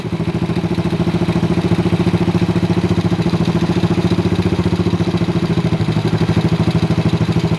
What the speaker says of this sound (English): obviously loud exhaust, that needs dealing with.